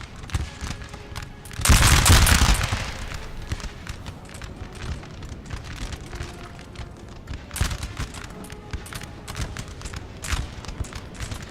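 Musket volleys in a Napoleon: Total War battle, Prussian fusiliers under fire from light infantry: a loud crackling burst of massed gunfire followed by scattered distant shots and rumbling battle noise.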